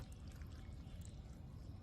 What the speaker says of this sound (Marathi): दोन तीन पाण्याने स्वच्छ धुवून घेऊया स्टार्च निघून जाण्यासाठी हा चोळून धुवावा